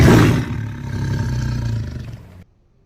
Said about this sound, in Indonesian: Terdengar kembali suara auman itu.